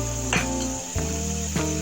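Water poured with fried lentil dumplings into hot oil in a pan while cooking a pabda fish curry, giving a steady sizzle with two or three sharper bursts as ingredients drop in.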